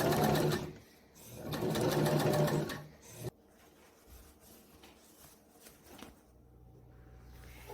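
A sewing machine stitching binding on a vest, two close, loud runs of rapid whirring stitches in the first three seconds, then quieter handling noise.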